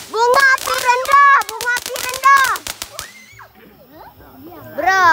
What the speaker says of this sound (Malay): Wow, bunga api apa ni? Bunga api rendah.